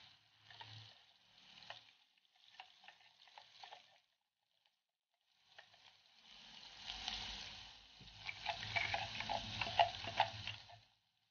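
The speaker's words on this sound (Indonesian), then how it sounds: "Lalu kita masak bumbu ini hingga harum dan berubah warna." Ground spice paste frying in hot oil in a pan while preparing beef kalio: faint, patchy sizzling gives way to a steadier, crackling sizzle that builds and grows louder toward the end.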